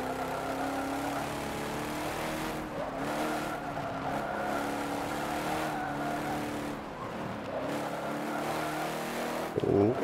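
Racing video game car engine buzzing steadily at high revs, the tone wavering and bouncing against the rev limiter, with a brief louder burst near the end; continuous and close, no talking.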